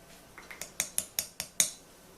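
A butter knife stirs black paste food coloring for poison caramel apples. The knife makes about eight sharp clinks against a bowl in quick, fairly even succession, growing louder, then stops.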